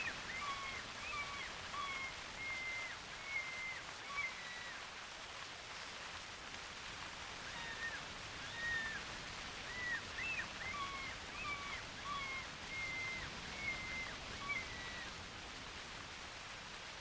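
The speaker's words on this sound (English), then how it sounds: "Here comes the rain" Steady rain falls in theHunter Classic, a soft, continuous wash of hiss with faint birds chirping intermittently over it, distant and fairly quiet throughout.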